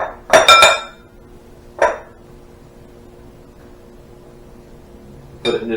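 A metal spoon scrapes and clinks while hollowing a baked potato out of its skin, giving short scraping bursts spaced apart by near-silence, close and fairly loud.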